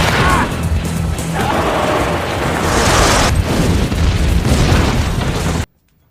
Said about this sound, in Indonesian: menabrak rumah warga hingga hancur dan meledak